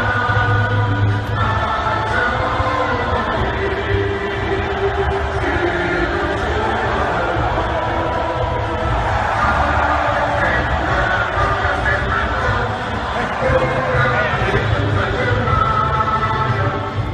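Large football crowd filling Camp Nou with a steady, dense roar of murmuring fans, continuous and even throughout with no single voice standing out.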